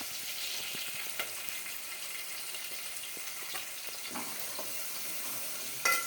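Chopped onions and green chillies fry in a pan, a steady, moderately quiet sizzle with occasional soft clinks and stirring scrapes, no voices.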